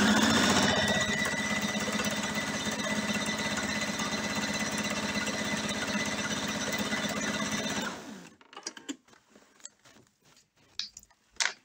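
A sewing machine runs in one steady, loud, continuous burst while stitching quilt pieces into a row of a striped fabric quilt, then stops abruptly, leaving faint handling noises and small clicks.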